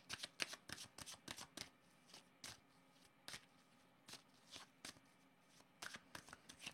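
Tarot cards being shuffled by hand, a quiet, close run of quick papery riffles and slaps in uneven bursts, with short pauses between them.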